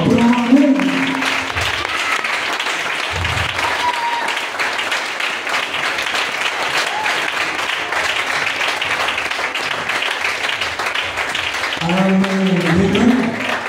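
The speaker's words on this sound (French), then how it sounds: "Donnez à Dieu une acclamation." A church congregation breaks into sustained applause and cheering, loud and continuous, with a voice speaking briefly at the start and again near the end.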